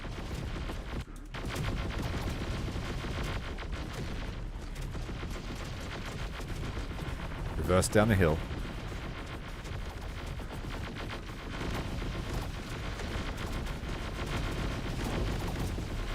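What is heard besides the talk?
gunfire from Terminator Dark Fate Defiance video game battle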